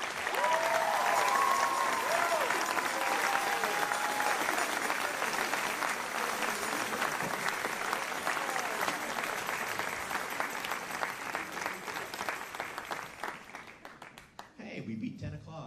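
Audience applause fills a hall after an evening percussion concert, a dense, sustained wash of clapping from a large crowd that holds steady for about fourteen seconds before thinning out and stopping.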